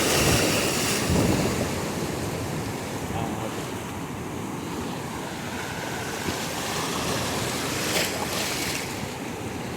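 Pacific Ocean surf rolling onto a narrow beach at Rosa, a loud continuous wash of breaking waves with heavy wind buffeting the microphone throughout.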